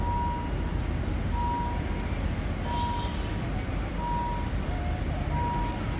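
A Henschel locomotive shunts a Kiha 40 train in a rail yard. A steady engine rumble runs throughout, with evenly spaced reversing beeps repeating roughly once a second at moderate distance.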